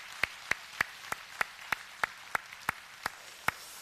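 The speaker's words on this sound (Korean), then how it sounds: "우리 박수로 한번 격려합시다" Single person clapping slowly and steadily in a church, about twelve evenly spaced claps, fairly faint and alone without talk.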